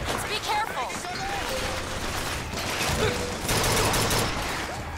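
Turret gunfire in Bioshock Infinite, a dense, rattling burst of shots with mechanical clanks and other game sounds running throughout, loud and continuous, with a voice talking over it.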